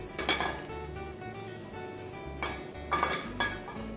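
A sauté skillet clanks onto a stovetop and is readied with oil for pasta, giving several close metallic knocks and clinks of pan and utensils over a low steady kitchen hum.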